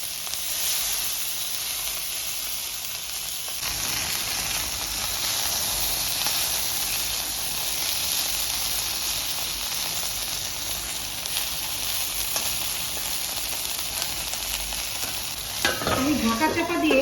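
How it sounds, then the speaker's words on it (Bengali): Broccoli fries in a hot pan with a steady, loud sizzle while a spatula stirs it, scraping now and then, with a sharper clatter near the end. "ব্রোকলিটা আমি অল্প করে ভেজে নেব।"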